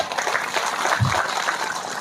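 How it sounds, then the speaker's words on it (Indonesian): Applause from a village crowd at an Indonesian independence-day community gathering, a dense, steady patter of clapping throughout with a brief low thump near the middle. "Tepuk tangan."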